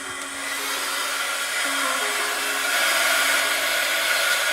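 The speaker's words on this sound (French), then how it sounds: "J'utilise mon hot gun pour embosser." Heat embossing gun blowing hot air to melt silver embossing powder on a card, a continuous close hairdryer-like whoosh and whine that grows slightly louder, with no voices.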